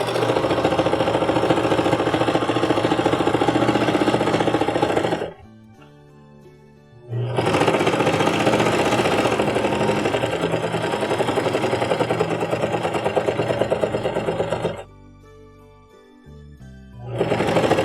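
A serger runs loud and fast while sewing seams on a pair of pants, a dense mechanical whirring in two long bursts separated by short quiet pauses, with a third run starting at the end.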